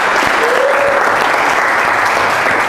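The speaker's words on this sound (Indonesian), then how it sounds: "Saya tepuk tangan buat Pak Uzi ya." An audience claps in a dense, continuous burst during a teaching performance assessment session, loud and close throughout with no talking, tapering slightly at the very end.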